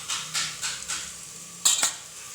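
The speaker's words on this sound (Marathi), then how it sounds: "आणि परत हलवत आहे." A spoon stirs biryani masala and spices into mutton in a metal pot, making a few close clinks and scrapes against the pot's sides over a quiet background.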